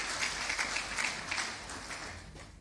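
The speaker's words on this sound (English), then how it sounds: "Shall we welcome him with a round of applause?" Audience applause at a fire service conference, a steady wash of clapping from a gathered crowd sustained throughout, fairly quiet and distant, with no speech over it.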